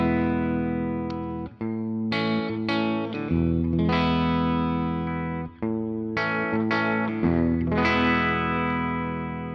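A 1974 Gibson electric guitar with embossed patent stickers, played on the neck pickup through effects, ringing chords and single notes with sustained tones and brief gaps between phrases, loud and alone.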